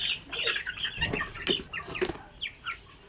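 Basilan native chickens cluck and squawk in a short burst of calls, mixed birds of different ages in a pen, close and fairly loud with no talk.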